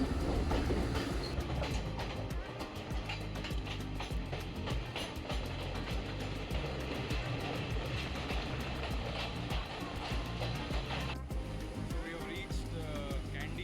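A first-class train carriage rumbles along the rails to Kandy, Sri Lanka, with rhythmic clickety-clack heard from inside, steady throughout with faint voices now and then.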